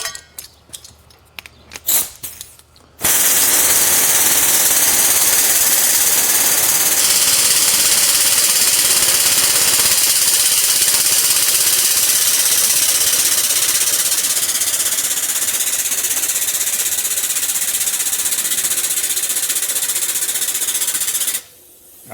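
An air-powered lift raises a Chevrolet Cruze engine in a home garage, a loud continuous pneumatic roar that kicks in after a few seconds of quiet rattling, shifts pitch midway, and cuts off sharply near the end.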